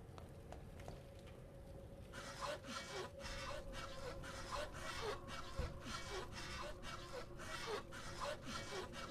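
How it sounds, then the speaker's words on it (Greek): A saw cuts through material in the survival game This War of Mine, with steady rhythmic back-and-forth strokes that start after a brief quiet lead-in and continue close and evenly paced. "λογικά το πριόνι σπάει μετά από αυτό"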